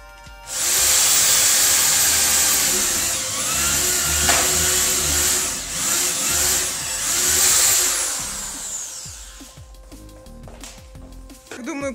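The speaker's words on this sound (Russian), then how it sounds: "и просверливаем дырочку." A high-pitched electric drill whines loudly as it bores a hole in a grain for homemade exercise equipment, its pitch wavering under load, then stops, leaving quieter handling noises.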